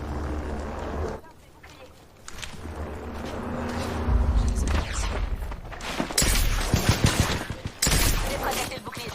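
Gunfire in the Apex Legends video game, with bursts of rapid shots and booming impacts that grow louder in the second half, mixed with game sounds and a player talking.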